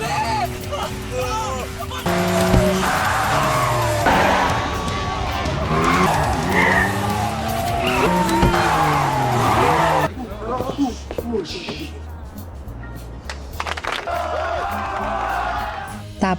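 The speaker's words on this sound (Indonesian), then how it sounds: "mobil itu meluncur tanpa kendali di area sekolah" A car with failed brakes skids out of control through a school area, tires screeching repeatedly beneath loud overlapping talk and shouting, with some crowd noise.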